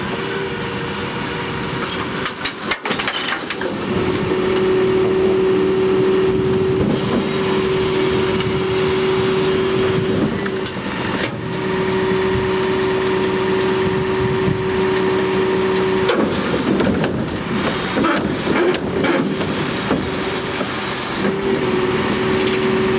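A Heil Big Bite refuse truck engine idles steadily nearby, a continuous low drone with a sustained tonal hum and occasional mechanical clunks, with no talking.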